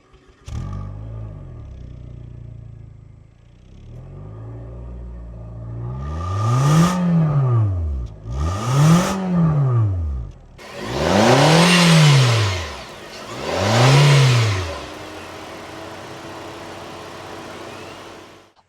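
A high-mileage Nissan Kicks with a 1.6-liter four-cylinder engine idles quietly, then revs up and back down four times in smooth rising and falling swells, close and fairly loud.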